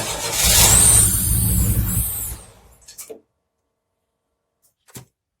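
A Pontiac Fiero engine, freshly fitted with a new fuel tank, roars loudly for about two seconds, then dies away, leaving silence broken by a few faint knocks.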